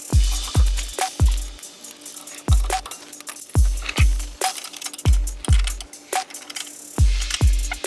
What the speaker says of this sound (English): we'll tighten down the 12 millimeter hex head bolt to about 30 foot-pounds